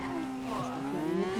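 A motorcycle engine starts up in a video game, its buzzing tone climbing steadily in pitch as it revs, loud and continuous with no one talking.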